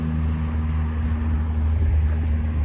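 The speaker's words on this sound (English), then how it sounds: "Airplane from the airport." An airplane from a nearby airport drones overhead during a street walk, a steady low engine rumble with a constant hum, moderately loud and unbroken, no voices.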